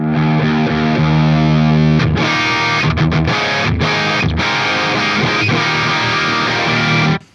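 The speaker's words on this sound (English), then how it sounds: "We can get quite a lot of distortion out of this thing if we wanted to." A lead electric guitar is played through a Synergy Syn20IR preamp with an overdrive module and pushed to heavy distortion. It opens on a sustained note, then moves to choppy, muted riffing. The playing is loud and close, with no voices.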